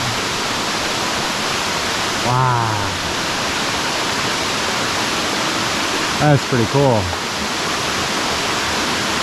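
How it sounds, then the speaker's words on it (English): A waterfall cascades down rocks beside a stream on the Blue Ridge Parkway at Crabtree Falls, a steady broad rush filling the whole clip, with brief talk over it twice. "So there's the stream, and there's the waterfall."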